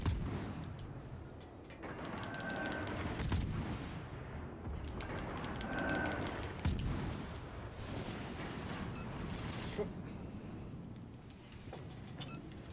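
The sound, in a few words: naval guns firing in video game World of Warships Legends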